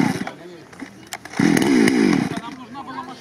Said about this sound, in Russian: цепную пилу достали